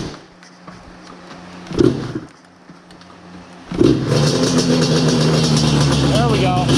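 A Yamaha Banshee drag ATV engine runs in a yard, coughing with a couple of brief bursts before catching and settling into a loud, steady close-up idle, with people talking nearby.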